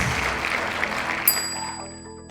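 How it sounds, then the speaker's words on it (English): Applause from an audience at a corporate one-day seminar, a broad steady wash of clapping that holds for about a second and a half before a bright chime rings out and the crowd noise fades away. "let's begin with a round of applause"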